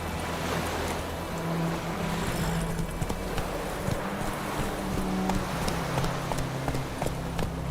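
Roach, a horse in The Witcher 3 video game, gallops with steady, rhythmic hoofbeats over a continuous outdoor wash of ambient noise and a low hum.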